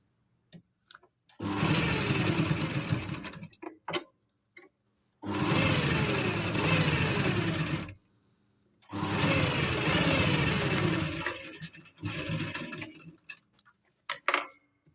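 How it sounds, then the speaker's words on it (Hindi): A sewing machine with a single presser foot stitches around the neckline of an umbrella frock in three bursts of rapid, even whirring, separated by short pauses with faint clicks and handling noises. "इस कपड़े को दबाते हुए इसमें पूरे में सिलाई लगा देंगे"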